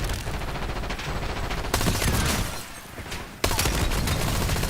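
A video game SMG fires in long, continuous rattling bursts. The stream of shots breaks briefly at about the midpoint, then loud automatic fire resumes sharply and carries on.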